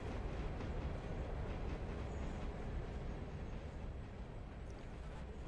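A passenger train rolls along in the Railroader video game's sandbox mode: a low, even rumble with soft rail clatter, fairly quiet and unbroken throughout.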